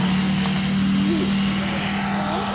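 A radio-controlled model Corsair fighter flies at the Much Marcle model air show, its engine giving a loud, unbroken droning whine with a steady pitch throughout.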